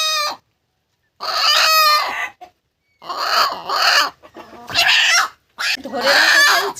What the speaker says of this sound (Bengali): চিৎকার দেখেছেন? এই হচ্ছে দেশি মুরগি।